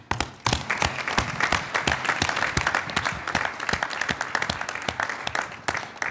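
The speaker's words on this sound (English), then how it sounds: "And now a big applause for you." A World Archery Congress 2017 audience breaks into applause, loud and close, with dense sharp claps starting after a brief pause and continuing steadily throughout.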